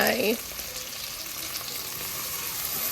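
Lentil coconut soup cooking in a pot, a steady bubbling sizzle close by with a stirring scrape at the start, and a voice speaking briefly at the start and end.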